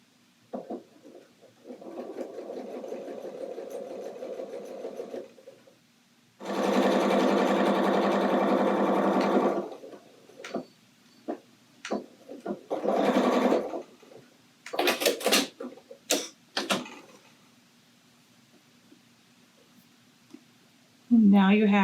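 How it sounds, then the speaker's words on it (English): A sewing machine top stitches a dress hem in short bursts, one long steady run in the middle, with clicks and handling sounds between runs and a person talking in between. "now I'm going to go ahead and top stitch it all the way around."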